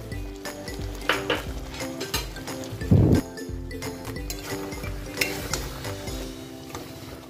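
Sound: poppy seed paste stirred and sizzling in a pan with tomato

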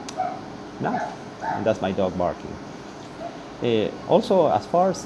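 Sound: dog barking

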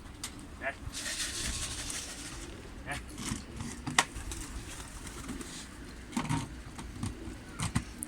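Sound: pigeons cooing in a coop

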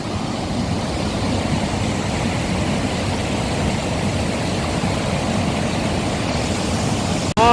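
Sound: stream water flowing in Gucheondong valley

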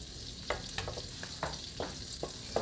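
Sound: butter melting and sizzling in oil in a pan

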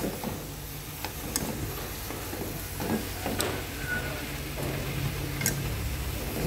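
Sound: stir-frying blanched water spinach in a pan

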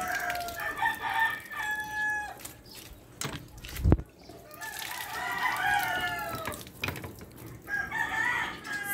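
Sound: chickens, rooster crowing

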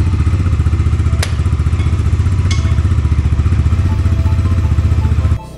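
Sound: motorcycle engine running after being started

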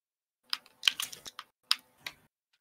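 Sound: cat sitting on a computer keyboard, pressing keys

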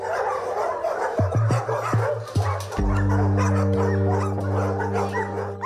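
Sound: dogs barking

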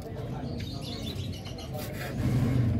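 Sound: pigeons cooing

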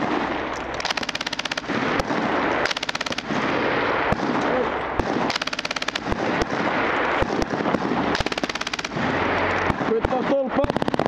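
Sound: MG3 machine gun firing, live fire exercise

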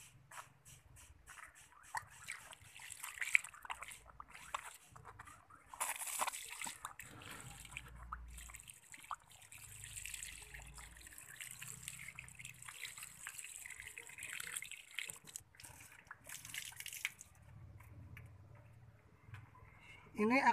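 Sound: water poured over potted plant

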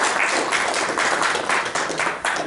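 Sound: audience applause

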